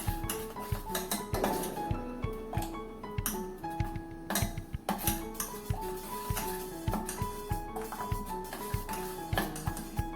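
Green chutney masala with ginger paste is stirred in a bowl with a steady run of light clicking and tapping against the dish, fairly quiet and continuous.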